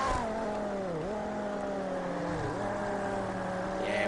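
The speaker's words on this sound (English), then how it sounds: "It's kind of like a nice clean V8 sound to it." A V8 race car engine in Total Immersion Racing holds a clean, steady drone, with two brief dips where it bogs at gear changes before climbing again. It runs loud and constant, with no voices.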